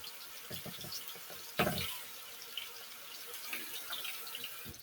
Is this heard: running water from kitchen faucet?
yes